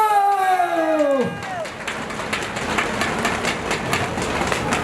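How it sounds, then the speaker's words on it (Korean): Crowd at a Korean forestry workers' protest rally breaks into steady applause and cheering right after a short shouted call from a speaker, the clapping dense and sustained to the end. "박수!"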